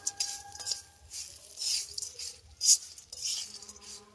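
Mango pickle is stirred with homemade amchur powder in a pan, making scraping and clinking spoon strokes that rise and fall in uneven bursts. A faint sizzle sits underneath, close and fairly quiet.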